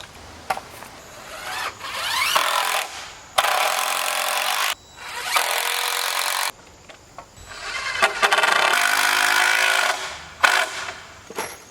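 Wooden boards are tacked up on a chicken coop frame with a power tool, several loud bursts of whirring and grinding separated by short pauses and scattered knocks, close by.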